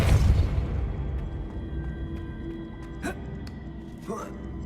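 A Depulso spell cast in the video game Hogwarts Legacy lands as a loud, low booming blast at the start, fading into a rumbling, humming game ambience broken by two brief whooshing bursts later on.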